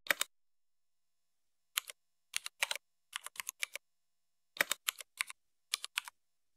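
Keys on a computer keyboard clack in short bursts separated by silent pauses, close and clean with no background noise, as names are entered in Unicode Bengali for a government job application form.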